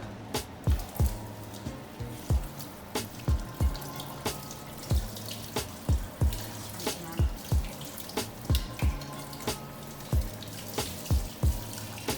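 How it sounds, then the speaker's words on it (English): Eggplants rinsed under a cold kitchen tap, running water with a steady rhythm of distinct splashes and drips repeating about every second, close and clear with no voices. "You just rinse these under cold water."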